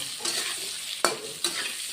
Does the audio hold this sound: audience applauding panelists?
no